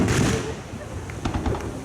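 Fireworks going off at an IPL gala dinner at Emirates Palace, a brief cluster of sharp pops and cracks arriving near the end, heard over loud crowd chatter and talk.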